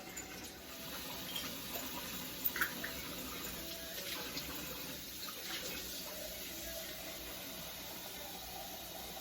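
Hot water pours steadily into a pot of bouillon for gravy, a soft continuous hiss and splash close by, with a couple of brief louder splashes partway through.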